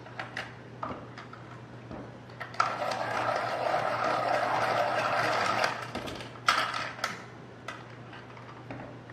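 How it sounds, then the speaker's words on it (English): A pencil sharpener grinds an orange colored pencil in a steady whirring burst lasting a few seconds, preceded and followed by short clicks and handling noises, close and fairly quiet. "So I'm going to sharpen it because it's going to need that."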